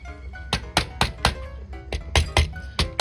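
Light taps and thunks as vinyl J-channel trim is knocked down into place around a window, a quick irregular series of about a dozen close knocks with no talking.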